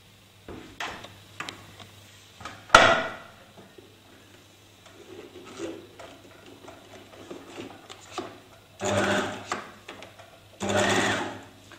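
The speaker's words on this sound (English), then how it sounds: "you need to machine straight stitch a 1 centimetre seam" Sewing machine straight-stitching a 1 cm fabric seam, short whirring bursts of stitching separated by quiet pauses and small mechanical clicks, close and clear.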